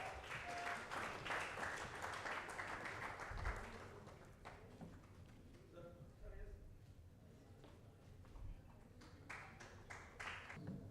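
Applause from an audience at an awards and open-mic poetry event, honoring guest choreographer Ravi Rajput. It rises in a dense, steady wash of clapping for the first few seconds and then thins, with voices talking over and after it.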